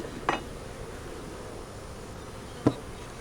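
Honey bees at a hive split in South Carolina, a faint, low, continuous buzz with two brief knocks or bumps, the first early and the second near the end.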